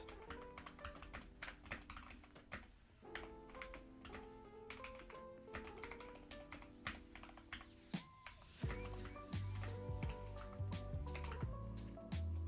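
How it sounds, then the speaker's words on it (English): Fingers typing on a computer keyboard in quick bursts of close, crisp key taps, with short pauses between runs, playing alone over a bed of background music. "I will just start typing it out."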